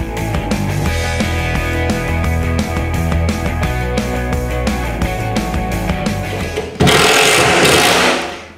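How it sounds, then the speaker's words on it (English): Impact driver sinking screws into a timber-framed plasterboard wall: loud, close rapid hammering rattle running continuously, then a sharper, brighter burst near the end before trailing off. "You'll hear that's an impact driver."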